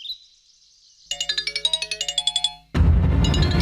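A phone rings with a bright electronic ringtone, a rapid chiming melody of pulsing notes lasting over a second, then cut off abruptly by a burst of loud, rough noise.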